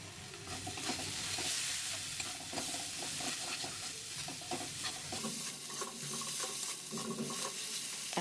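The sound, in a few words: cumin, chili powder and spices frying and stirred in pan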